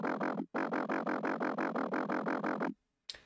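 A warbly neuro bass synth patch built in Serum with drive automation pulses in a steady, rhythmic wobble, loud and dry, then stops abruptly with a brief trailing hit.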